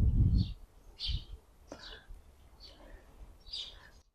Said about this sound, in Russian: вот вы слышите, как птички поют?